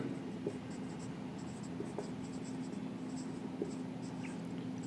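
A pen scratches across paper while figures are written out for an accounting problem, a soft, steady scribbling close by with faint strokes and pauses, quiet and without talk.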